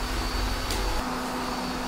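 A robot vacuum cleaner runs indoors with a steady whirring hum and airy hiss, a brief brush-like scrape partway through before the motor tone settles again.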